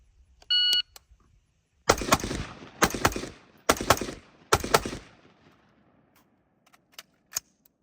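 Rifle gunfire from a Sionics barreled upper at a shooting training range: a short beep, then four loud, sharp shots about a second apart, each with a brief echoing tail, followed by quiet and a faint late crack.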